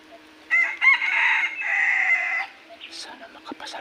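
A wild red junglefowl rooster crows once, loud and fairly close, in the countryside near a hunter's trap, with a long, wavering cock-a-doodle-doo followed by softer clucks and rustling.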